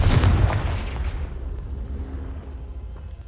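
Fire spell cast in the video game Hogwarts Legacy, a loud close blast with a heavy booming impact that decays over a few seconds into a fading rumble.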